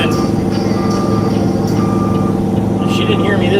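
Repeated backup beeps from a reversing truck sound at an even pace, near and prominent over engine rumble, with voices talking in the background.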